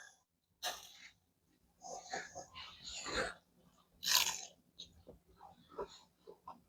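Crisp crunching bites into beer-battered fried cod, several loud crunches spaced apart with quieter chewing between, close to the mic.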